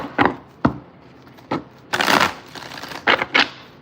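A deck of cards shuffled in several quick riffling bursts, crisp papery rattles separated by short pauses, close by with no talking.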